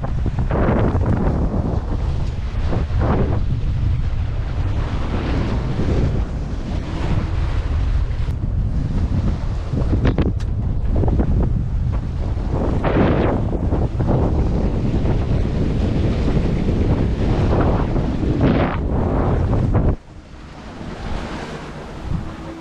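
Steady wind roars across the microphone with water rushing past a sailboat's hull at about 6 knots, loud and continuous, easing off near the end.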